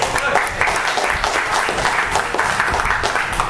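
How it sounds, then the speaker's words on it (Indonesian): A meeting audience applauds together, a dense, steady clapping that carries on loudly for several seconds. "Tepuk tangan dulu lah."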